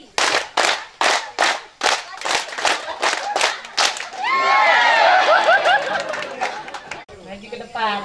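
A standing audience at a live event claps in unison on a leader's count, giving sharp group claps in a steady rhythm, then dissolving into loud mixed clapping and chatter before a brief pause.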